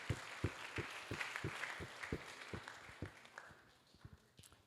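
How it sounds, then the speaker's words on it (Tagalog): A church congregation claps in a regular beat, roughly three claps a second over a dense wash of crowd noise, the rhythm loosening and fading toward the end. "Bigay po natin ang pinakamalakas na palakpak sa ating Panginoon."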